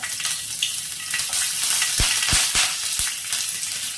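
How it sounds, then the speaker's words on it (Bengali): Slit green chillies hit hot oil with a loud, steady frying sizzle, and several sharp pops and crackles burst out near the middle of the run. No one speaks. "তেল গরম হয়ে গেছে এবার দিয়ে দিচ্ছি কয়েকটা চেরা কাঁচা লঙ্কা"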